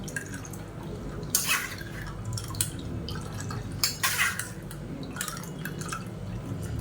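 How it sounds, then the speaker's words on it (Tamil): Juice pressed and strained for drumstick rasam drips and splashes into a vessel in irregular bursts, close and fairly quiet, with occasional small clinks of the pot. "நல்லா கொஞ்சம் தண்ணி விட்டு நல்லா எல்லா ஜூஸையும் பிழிஞ்சு எடுத்துக்கலாம்."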